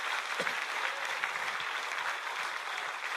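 A church congregation applauds steadily through a sermon honoring Jesus, a dense wash of clapping at moderate distance with no pauses.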